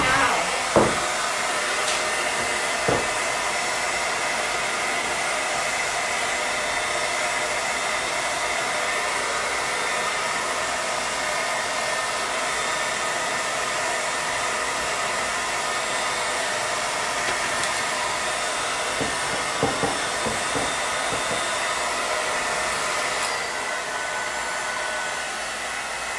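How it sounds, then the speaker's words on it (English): A blow dryer runs continuously at a steady, loud whirring hum, with a few faint clicks and bumps near the start and end. "Blow dryer that I've never used for my hair."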